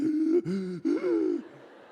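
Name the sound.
voice imitating a gasp of someone unable to breathe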